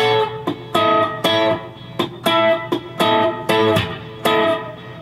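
Measure 108 of a song on acoustic guitar, taken slowly: a muted percussive knock followed by a series of ringing chord strums in short, evenly spaced bursts, close and solo without speech.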